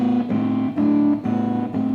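A sustained, static melody played over a low A bass note, in a piece about what makes horror soundtracks scary; steady harmonic tones move in short phrases with brief dips between them, with no talking.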